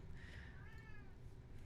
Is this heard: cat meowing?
yes